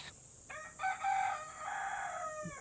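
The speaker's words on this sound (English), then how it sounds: "Oh my, look at this fluffy chicken." A large fluffy chicken in Kanazawa, Japan, gives a drawn-out vocal call that swells and fades over about two seconds, close and moderately loud against a steady background hiss.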